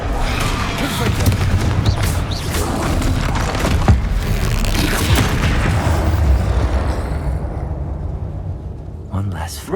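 A Confringo blasting spell in Hogwarts Legacy goes off among booming explosive blasts and heavy rumbling combat noise, dense and loud, with a voice heard over the battle before the din fades.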